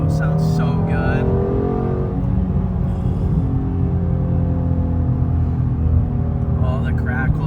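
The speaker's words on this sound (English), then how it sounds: "And just the exhaust now sounds so good." A 2017 Shelby GT350 exhaust rumbles steadily while driving slowly, a deep continuous drone heard from inside the car, with people talking over it.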